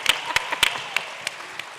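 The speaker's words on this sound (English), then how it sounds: "Yes, you can clap for that." Scattered applause from a panel audience at the Netroots Nation 2018 conference. About six sharp claps fall unevenly and fade quickly, with no voices in between.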